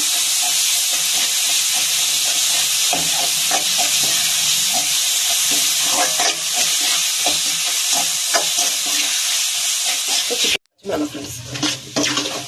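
Ginger garlic paste fries in a pan with a loud, steady sizzle and hiss, broken by light stirring clicks and a brief drop near the end before the sizzling resumes.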